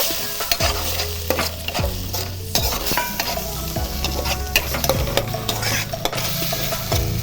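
Ginger garlic paste fries in hot oil for a fish egg curry, a loud steady sizzle broken by repeated scraping stirs of a spoon against the pan roughly every second, no talking.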